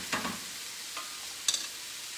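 Garlic sizzles in a pan over medium-low heat, a steady soft frying hiss broken by a few louder bursts of stirring, with no talk.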